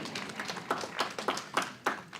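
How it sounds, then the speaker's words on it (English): A small group claps at a school board meeting, a thin, faint patter of separate hand claps with a loose rhythm of roughly three or four per second, heard at a distance in a large room. "so let's give them a round of applause"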